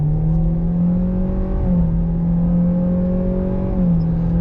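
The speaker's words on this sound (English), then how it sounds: "So let's go ahead and press on the gas." A 2025 Kia K4 EX with a CVT accelerating in sport mode, a steady loud engine drone heard from inside the cabin that rises smoothly in pitch, dips briefly and climbs again, with no voices.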